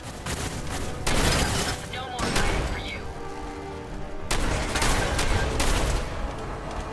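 Automated turrets firing in Fallout 4, rapid bursts of gunfire in several loud volleys separated by short lulls, with a voice talking in the game.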